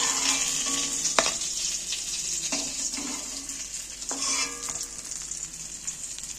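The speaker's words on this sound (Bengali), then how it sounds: "ভাজলে তবেই খেতে টেস্টি হবে দেখো এইবার আমি এক একটা করে মাছগুলো তুলে নিচ্ছি" Rohu fish pieces sizzle steadily in hot oil, a continuous close frying hiss with a few sharp clinks and stirring bumps, with no talking.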